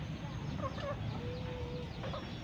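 Backyard hens eat feed mixed with moringa leaves, giving soft, close clucks and short chirpy calls over a steady background hiss.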